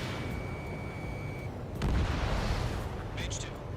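A radar vehicle blowing up in the Ace Combat 7 video game: a sudden broadband explosive burst midway with rumbling low end and crackle, laid over a steady dense wash of combat noise and a brief high tone early on.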